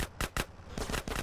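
Gunfire in GTA San Andreas, a quick series of sharp cracking shots, two distinct bursts followed by a tighter cluster of four or five, fairly faint and close together.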